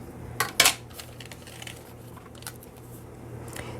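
A paper window envelope being cut with scissors, with a few crisp snips close by, the sharpest two near the start and fainter cuts after, with no talking.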